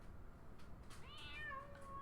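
A cat meows in Dragon Quest Builders 2, one short rising-falling meow over a faint background hum, quiet and alone without talk.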